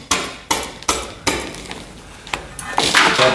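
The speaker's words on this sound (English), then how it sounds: "Now I'm just gonna chisel this whole rubber off here, watch." Rotten rubber seal being chiseled off the split windshield of an REO Gold vehicle, a run of sharp hammer-driven metal taps in a fairly steady rhythm, loud and close, followed by scraping.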